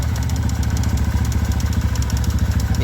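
A Kawasaki ZX motorcycle engine idles too high, holding a steady, fast-running drone with a rough mechanical clatter, loud and close throughout with no voices.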